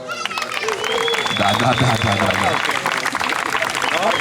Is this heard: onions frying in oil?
no